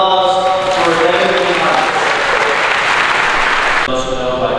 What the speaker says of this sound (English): So a big round of applause for Evan.